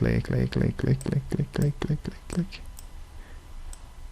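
Sharp computer mouse clicks in a quick run of about a dozen, close and distinct while someone speaks over them, ending after a couple of seconds into quiet room tone.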